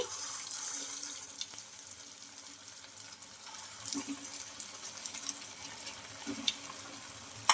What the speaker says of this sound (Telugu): ఇంకా ఇక్కడ తక్కువ ఆయిల్తో అయితే ఫ్రై చేసుకుంటున్నామండి